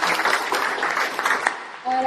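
Crowd clapping at a girls' day public event for a woman who won an international gold medal in karate and judo, a steady dense patter close by with a brief break near the end.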